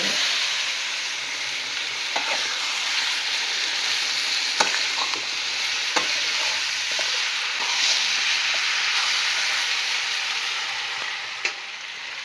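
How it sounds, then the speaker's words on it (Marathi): Mutton in masala fries in a pan with a loud, steady sizzle that fills the whole stretch, broken by a few sharp clinks of stirring and no talking. "आता चांगलं तळून घेतलं मटण टाकून"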